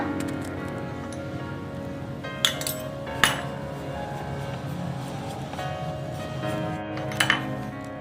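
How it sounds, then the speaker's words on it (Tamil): Leftover idli are mixed with oil and spice powder in a metal vessel, with soft continuous stirring and a few sharp clinks of a spoon against the vessel, heard close and without talk. "இப்போ ஆயில் போட்டு இதை நல்லா மிக்ஸ் பண்ணிக்கோங்க."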